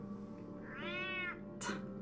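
A cat in Batman: The Telltale Series gives one drawn-out, rising-then-falling meow, clear and close over a low steady background hum, followed by a short sharp hiss or spit.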